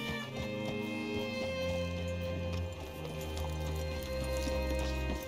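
Horse hooves clip-clop steadily in Red Dead Redemption 2, a moderate rhythmic patter of a horse walking, blended with the game's ambient background hum and faint tonal music.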